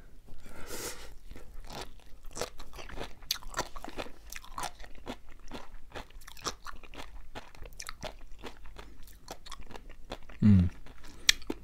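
Crunchy, wet chewing of sea grapes seaweed, close to the mic in a mukbang eating show, with steady repeated bites and squelches and no talking.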